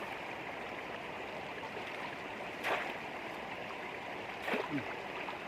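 Water flows steadily around a snakehead fish trap set in a rural stream, a continuous soft rushing with two brief splashy bursts partway through, close and fairly quiet.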